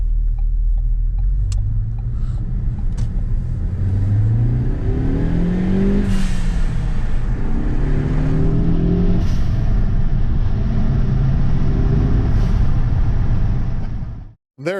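A 2016 Ford Focus ST engine idles and revs repeatedly through rising and falling pulls, loud and close, ending in an abrupt cutoff and a brief sharp release at the very end.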